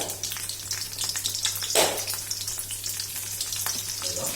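Garlic sizzles and crackles steadily in hot oil in a pan, a continuous close frying hiss with a brief louder burst partway through.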